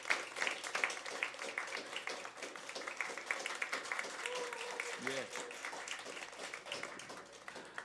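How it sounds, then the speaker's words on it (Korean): A church congregation applauds in a steady patter of many clapping hands, with talk and a short tonal sound partway through. "우리 큰 박수로"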